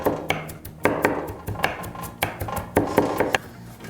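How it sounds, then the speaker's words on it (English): Knife chopping garlic on a cutting board at a camp kitchen, with a series of sharp, irregular taps close by and no talking. "I can start chopping my garlic"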